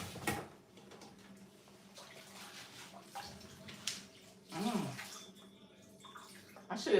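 A dyed wig is rinsed under running water, heard as quiet, intermittent splashing bursts of flow with some louder gushes and soft background movement.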